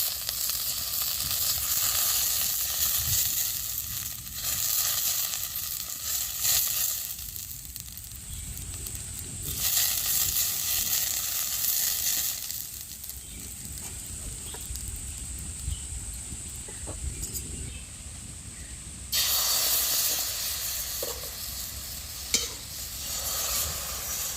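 Oil sizzling and frying steadily in a greased kadai while mango patisapta batter cooks, a continuous close hiss with occasional stirring scrapes and brief shifts in intensity.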